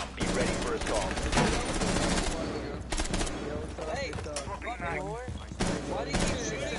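Rapid gunfire bursts from a Rainbow Six match on PS4 rattle through most of the stretch, dense and loud, with voices talking over the shooting.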